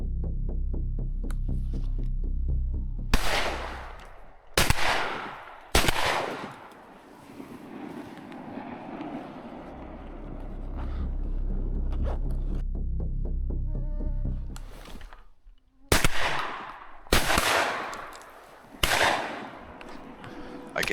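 Several sharp, loud shots in an outdoor duck hunt at sunset, spaced irregularly and each ringing out against a low steady background hum, with quieter stretches between bursts.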